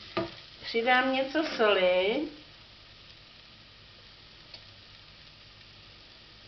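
Roux frying in a pan for Czech mushroom soup, a soft crackling sizzle under someone speaking Czech, then fading to a faint low hiss.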